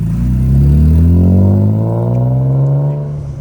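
A caged BMW E36 race car's engine revs loudly and close by, with a rising tone that climbs steadily, then holds and eases near the end, alone with no voices.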